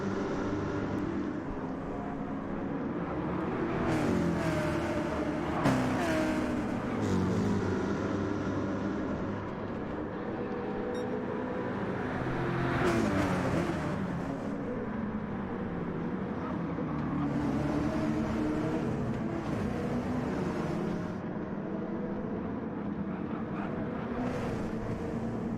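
Race car engines from a V8 Supercars racing video game during a 20-lap race: a continuous dense engine drone with repeated rising and falling whines as cars shift and pass, steady and loud throughout.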